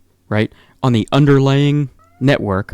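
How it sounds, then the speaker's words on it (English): A house cat meows in the background, faint and intermittent beneath a person talking steadily close to the microphone. "I apologize if you hear my cat in the background meowing."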